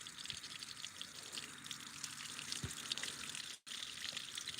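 Water splashing and gushing steadily from an outboard boat engine running on a flushing muff, a continuous broad wash of spray close by with one brief dropout near the end.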